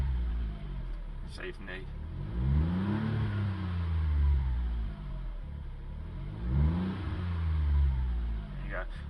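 The turbocharged engine of a Smart ForTwo 450 revs twice while parked, climbing and falling in rising, swooping waves, loud and close, with a voice briefly heard over it.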